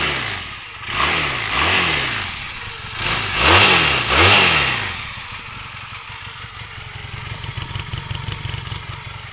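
A Honda CB250 Nighthawk motorcycle engine runs nearby, revving up and down in several rising and falling swells, then settling into a steady, fairly quiet idle with a rapid, even pulse.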